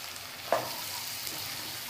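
A spoon gives one quick scrape through egg and drumstick curry as chilli powder and spices are mixed in, over a steady low sizzle from the pan, close and without speech.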